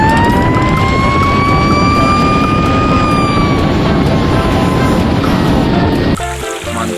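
A toy fire boat siren wails in rising and falling tones over a steady loud background wash, cutting off abruptly near the end.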